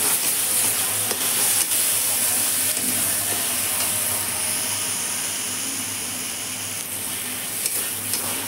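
Egg curry masala with chili powder and turmeric frying in a pan, a loud, steady, hissing sizzle with faint stirring scrapes throughout, close and without talking.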